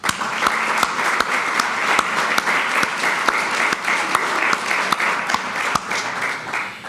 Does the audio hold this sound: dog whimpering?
no